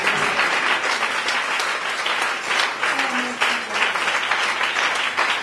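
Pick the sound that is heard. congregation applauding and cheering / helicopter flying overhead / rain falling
congregation applauding and cheering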